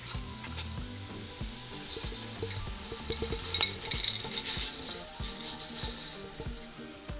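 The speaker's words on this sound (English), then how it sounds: "we're just going to fry them for about 2 minutes or until all of our fideos have turned into a golden color" Fideo noodles frying in hot oil in a pot give a steady, close sizzle, with occasional clinks and scraping from stirring and no talk over it.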